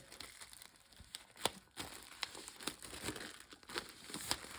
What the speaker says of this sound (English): Let's get this plastic off of here.